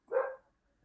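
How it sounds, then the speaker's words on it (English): A single short dog bark, fairly close and clear, standing alone against near silence. "Dog's barking."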